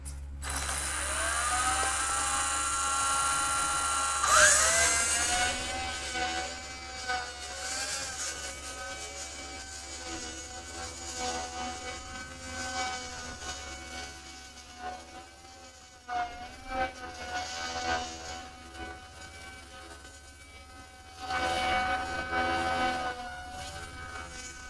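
A JJRC M05 flybarless RC helicopter whines with a high steady buzz that rises and shifts in pitch as it lifts off and flies, close by, no talking.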